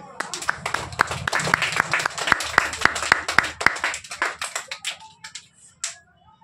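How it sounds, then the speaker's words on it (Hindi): A burst of rhythmic group clapping from a class of students, a couple dozen sharp claps that grow scattered and fade out near the end. "एक बार ताली बजा दीजिए"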